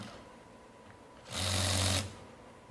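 A Makita XRW01 18-volt cordless ratchet with a 2 amp-hour battery runs in a single short burst of under a second of close, buzzing motor whir, with quiet room noise before and after.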